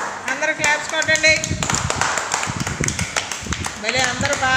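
Schoolchildren in a government school classroom clap together in quick, uneven bursts, with an adult voice and children's chatter heard over the clapping.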